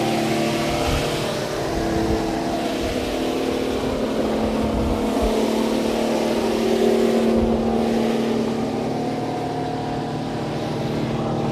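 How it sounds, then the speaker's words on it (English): Dale Earnhardt Jr.'s number 88 Hendrick Motorsports Chevrolet SS race car engine roars steadily nearby in a garage, a loud sustained mechanical drone with a shifting, rumbling tone. "Dale Earnhardt Jr.'s engine is roaring right here in the background."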